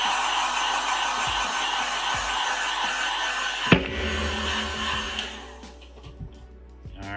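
A heat tool blows hot air over an alcohol ink 20 ounce tumbler, a loud, steady close whirring rush that stops partway through and then winds down into quiet handling noises.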